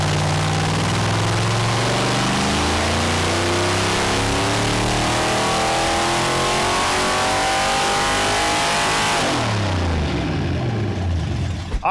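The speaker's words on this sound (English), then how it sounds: "Man, it sounds really good. This engine's peppy." A 302ci small block Ford V8 with SVE 170cc cylinder heads revs hard on a dyno, a loud sustained roar rising steadily in pitch for about nine seconds before cutting back to a lower idle.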